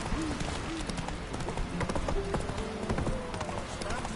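Roach the horse's hooves clip-clop steadily in The Witcher 3, a brisk repeating beat of game footsteps layered under music and chatter.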